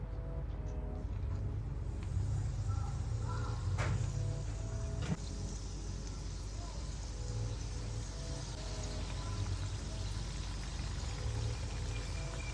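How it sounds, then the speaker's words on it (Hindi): Chicken samosas fry in oil in a pan, giving a steady, close hiss and bubbling sizzle that runs continuously, with a couple of faint knocks. "एक पैन के अंदर ऑयल डालें और समोसों को गोल्डन ब्राउन होने तक फ्राई कर लें।"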